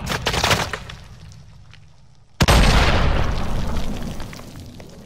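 Grenade explosion in the video game Modern Warfare: a single loud, sudden boom at mid-clip with a decaying rumble, following quieter gunfire-like bursts.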